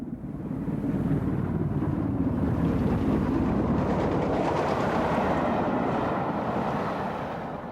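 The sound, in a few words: Class 44 heavy freight steam engine leaving Hamburg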